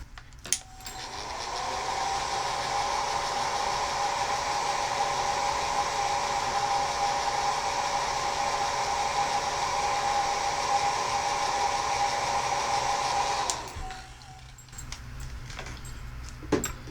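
A handheld heat dryer blows steadily on pigment ink on a Christmas craft tag, a continuous whirring hum held for about thirteen seconds before it cuts off, followed by faint handling clicks.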